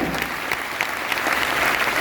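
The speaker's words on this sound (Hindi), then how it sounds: "जोरदार इस चंद्र जी के लिए जबरदस्त ताली" A short burst of lively audience applause fills about two seconds at a business success-story gathering, the claps dense and even with a few sharper accents.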